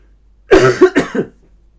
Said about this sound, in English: Sorry for my coughing, I will be coughing even more.